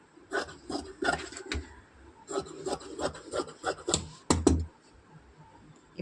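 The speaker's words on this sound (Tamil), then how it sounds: "இதை அப்படியே கட் பண்ணி எடுத்துக்கலாம்." Scissors cutting through blouse lining fabric on a tailoring table, a run of close, crisp rasping snips in uneven bursts, with one louder snip near the end and no talk.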